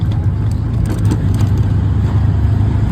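An auto-rickshaw moves along a quiet Mumbai road, giving a steady, loud engine drone and road rumble heard from inside the cabin, with no talk.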